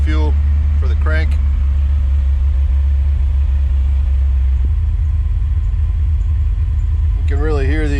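An EFI car engine cranks and fires up, settling into a steady low, rumbling idle with an MSD ignition box buzzing; a voice speaks briefly at the start and again near the end.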